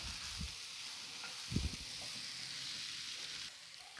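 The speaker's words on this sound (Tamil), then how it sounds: "இப்போ இந்த மீதம் இருக்க நெய்யிலேயே நம்ம பூசணிக்காயை போட்டு நல்லா வதக்கிக்கலாம்" Yellow pumpkin pieces frying in ghee for halwa, a steady close sizzle with a couple of brief low stirring clunks, no talking.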